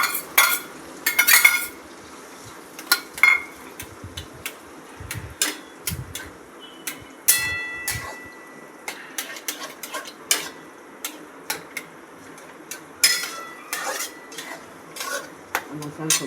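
Boiled vegetables for onion- and garlic-free pav bhaji are stirred in a pan with Kashmiri chilli, giving irregular close clanks, scrapes and taps of a spoon against the metal over a light sizzle.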